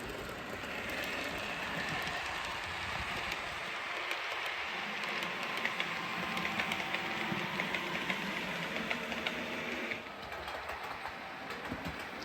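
A model train rumbles steadily along the track into a platform with a continuous mechanical whir and clatter, fairly close, with no talking.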